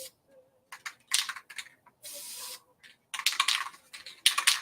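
Spray paint hissing out of an aerosol can over water for hydro dipping a cup, heard as several short, sharp bursts of spray separated by brief pauses, fairly close and with no talk.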